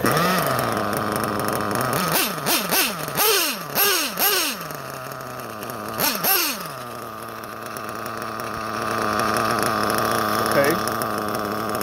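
A nitro RC car engine with a good glow plug revs in several sharp rising-and-falling bursts, then settles into a steady, buzzing idle close by while someone speaks briefly.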